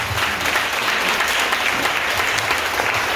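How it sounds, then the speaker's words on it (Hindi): A church congregation bursts into sustained applause, a thick, even crowd clapping that fills the room at steady volume from start to finish. "आप लोग ताली बजा सकते थे खुद के लिए।"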